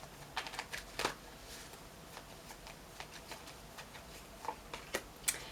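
Tarot cards are shuffled by hand to draw a clarifying card, making a few soft, close riffling and snapping flutters with quiet pauses between them.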